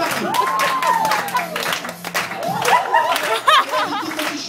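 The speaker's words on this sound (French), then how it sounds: "Et le public t'applaudit encore plus." A crowd claps and cheers close by, with excited voices and shouts rising over the steady clatter of applause.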